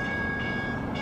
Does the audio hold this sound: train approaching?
yes